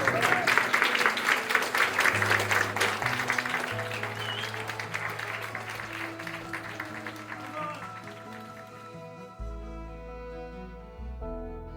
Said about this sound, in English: I want you to give a big round of applause to David and Mitsue Wolfenberger